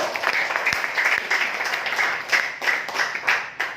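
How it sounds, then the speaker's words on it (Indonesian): A room full of people applauds at a business presentation, steady dense clapping held at an even level for several seconds, with no other sound cutting through. "Sekali lagi aplaus buat PT BES"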